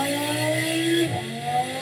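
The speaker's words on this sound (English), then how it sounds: "we have the engine revving, got the tires spinning" Close, loud Audi R8 engine revving with a sharp rising whine that briefly dips and picks up again as the tires spin.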